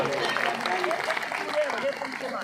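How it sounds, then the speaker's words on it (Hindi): An audience claps at a Shree Shyam jagran, a religious night gathering at Brahmarth Dham, Sisana, with brief, moderate applause under a dominant voice. "एक बार जोरदार तालियां।"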